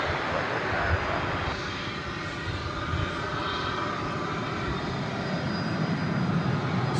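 A UPS Boeing 767 airliner bound for Louisville being pushed back at DFW Airport, a steady broadband engine and ground roar that stays loud and even throughout, with no talk.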